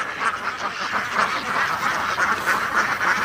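A large flock of ducks on a duck farm quacks in a dense, continuous chorus, many overlapping calls at close to moderate distance with no pauses.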